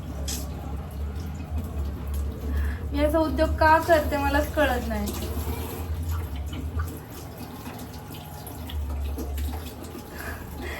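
A kitchen tap runs in a steady wash over burned hands, with someone talking over it throughout.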